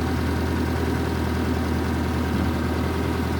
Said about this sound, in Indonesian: coba dulu dengarkan suara mesin dari Expa ZL Extra 13 CDI milik saya